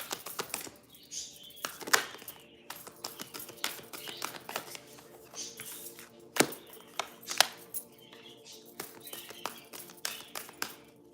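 A deck of cards being shuffled, with a series of sharp, crisp riffles and taps in quick irregular bursts, close and fairly quiet, with no talking.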